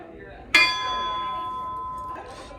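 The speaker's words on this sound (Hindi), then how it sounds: "और देखिए इसमें घंटी भी लगी हुई है।" An old bell on an antique fire truck, rung by hand with a rope, gives one sharp, bright strike that rings on in a long sustained shimmer, with faint room noise around it.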